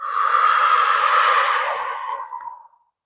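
A long, audible exhale through the mouth during a yoga cat-cow stretch, one smooth breath close to the mic lasting over two seconds and tapering off into silence.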